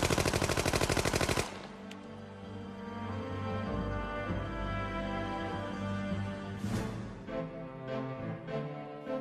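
Military machine gun fire: a rapid, loud, continuous burst of automatic shots close by at the start, followed by lower sustained rumbling and scattered sharper reports.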